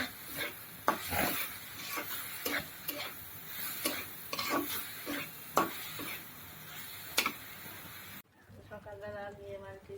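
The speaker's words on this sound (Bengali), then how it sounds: "শাক ভাজা হয়ে গেছে আমি এখন নামাই নেব" Leafy greens are stirred in a hot pan, with repeated close scrapes and rubbing strokes of a spatula over a faint sizzle, and a voice speaks between the strokes.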